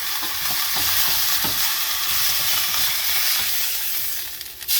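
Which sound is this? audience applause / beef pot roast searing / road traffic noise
beef pot roast searing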